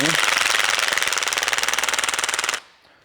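A power tool drives screws into a compression fitting on an Ice Ripper cord replacement, a loud rapid hammering rattle running for over two seconds before stopping abruptly.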